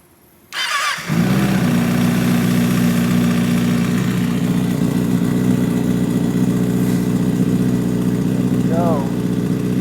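A 2024 Kawasaki ZX-6R 636 motorcycle engine cranks briefly, catches within a second, then settles into a steady, loud, close idle that holds throughout.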